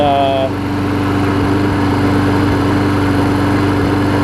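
A Briggs and Stratton Quantum engine on a push mower runs at a steady, loud drone with an even low pulse and no change in pace throughout. A brief tone sounds at the very start.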